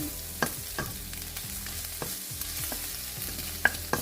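Shrimp stir-frying for chilli-sauce fried rice, a low steady sizzle broken by regular scraping strokes of a spatula against the pan, close and without any voices.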